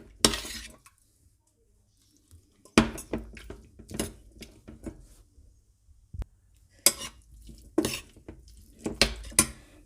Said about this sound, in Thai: คนลงไปจ้ะ